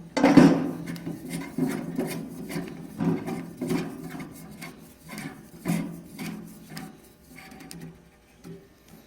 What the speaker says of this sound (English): The bottom of the pole gets hand tightened into the base of the unit.